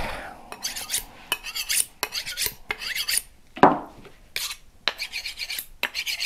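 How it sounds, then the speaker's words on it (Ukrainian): A kitchen meat knife is drawn repeatedly along a honing steel, giving about ten quick rasping strokes in a steady rhythm, with one heavier swipe midway. "Ось це підводить оригінал. Ну, він, виходить, я чувствую, що мусат погано бере сам ніж."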